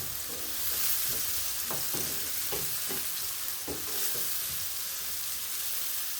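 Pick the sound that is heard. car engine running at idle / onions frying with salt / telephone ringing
onions frying with salt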